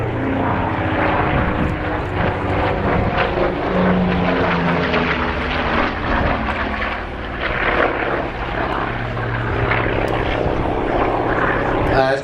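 A Douglas AD-4 Skyraider, a 2,800-horsepower carrier-based ground attack aircraft, flies at the East Fortune Airshow, its big piston engine and propeller giving a steady, loud rumbling drone, with a commentator talking over it.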